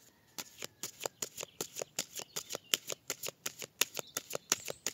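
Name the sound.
oracle cards being shuffled and cut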